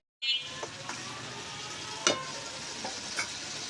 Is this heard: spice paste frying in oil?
yes